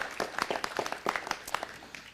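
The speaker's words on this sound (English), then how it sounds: "Give them a nice round of applause." A council chamber audience applauds two organisation co-founders with a dense, continuous patter of many hands clapping at moderate volume, with no speech over it.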